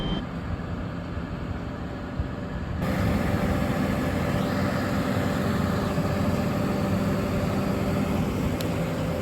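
A tractor and trailer unit idles while moving the boat Smuggler's Blues 2 during a lift-out at a boatyard. A steady engine rumble grows louder partway through and holds there, with a brief high tick near the end.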